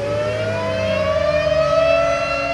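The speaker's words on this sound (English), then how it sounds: "Campus is equipped with outdoor sirens and indoor PA systems." An outdoor emergency warning siren on a university campus wails steadily and loudly, its rising and falling tone sustained throughout with no voices.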